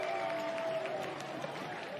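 Duke fans cheering at Klöckner Stadium after a lacrosse goal against Virginia, a broad, steady crowd roar with applause at moderate distance, sustained for the whole moment.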